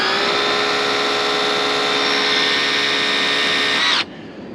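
A Ryobi EZClean power cleaner sprays steadily in rinse mode, a continuous motor whine with water hiss, loud and close, cutting off abruptly near the end.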